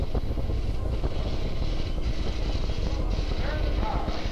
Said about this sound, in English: We have ignition. Commit liftoff.